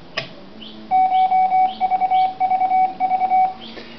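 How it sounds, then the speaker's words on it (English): A code generation machine in a ham radio shack sends Morse code as a run of steady electronic beeps in a rapid on-off rhythm, loud and close, with faint background tones. "Because I prefer to use Morse code to talking."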